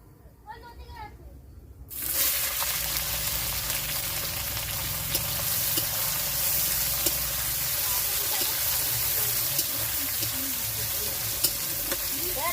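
Onions tossed into hot spiced oil hit with a sudden loud sizzle that settles into a steady close frying hiss with occasional stirring scrapes, after someone speaks quietly over the pan beforehand.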